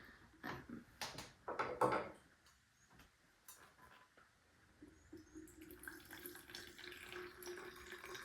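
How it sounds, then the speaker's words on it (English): Water running from a tap into a plastic peri bottle, a steady rising pour with a faint tonal hum building over several seconds, preceded by a few brief knocks and clatters close by. "you will fill up your Peri bottle about halfway"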